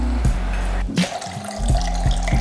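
Onyx Platinum cold brew coffee poured into a cocktail shaker with vodka and sugar syrup for an espresso martini, a close liquid splash and trickle with a brief gap, short and alone.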